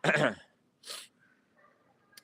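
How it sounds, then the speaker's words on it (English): A short voiced sound, then a single sharp sneeze burst close by, followed by faint background noise. "who's gonna sneeze?"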